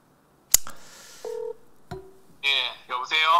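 Telephone keypad tones sound as a call is placed, with a sharp click, one steady two-tone beep of about a quarter second, and a short low tone, followed by muffled speech over the phone line.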